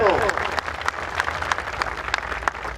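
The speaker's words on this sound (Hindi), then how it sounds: "उनके लिए जोरदार तालियां दोस्तों" Crowd applause at a labour rally, with scattered distinct claps over a dense wash of clapping and some voices mixed in.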